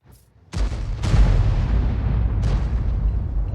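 A tank shell booms out in a tank battle video game, a heavy blast at the start followed by a second deep impact and a long rumbling roar that stays loud throughout.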